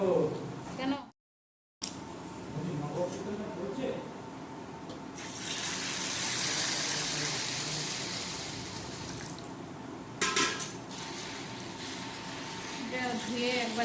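Water being poured off after rinsing, a close gushing and splashing stream like a running tap into a sink, with a brief dropout and a person talking over part of it.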